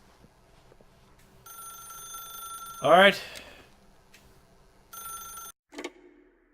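A telephone rings in the video game The Stanley Parable, giving two electronic bell bursts with a brief spoken exclamation between them. A short knock or clunk follows, and the sound is clear and moderately loud.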